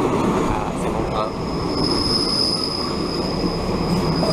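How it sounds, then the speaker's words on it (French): A train pulls into Phitsanulok station in Thailand, a loud, close rumble of rolling cars with high wheel squeals running over it; no clear talk rises above the noise. "c'est mon train."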